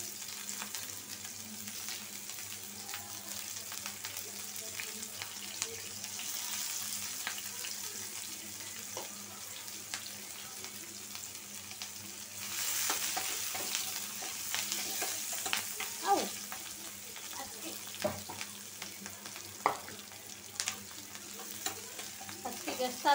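Onions and green chilies fry in oil in a wok, giving a soft continuous sizzle with scattered scrapes and clinks of stirring that grow busier and louder partway through.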